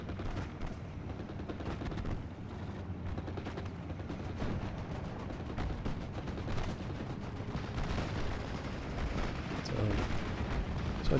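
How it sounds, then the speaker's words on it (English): A Spitfire air strike on German half-tracks in a Normandy 1944 strategy game, heard as dense continuous rumbling gunfire and explosions with crackling bursts that keep a loud, sustained battlefield din throughout. "I call in a Spitfire to try and come up and deal with them"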